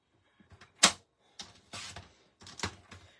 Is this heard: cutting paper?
yes